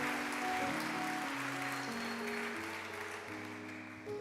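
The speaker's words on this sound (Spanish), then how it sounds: "Denle un aplauso bien fuerte a Jesús." Church congregation applauding Jesus during a sermon, a soft, continuous patter of clapping spread through the room, with sustained musical chords underneath.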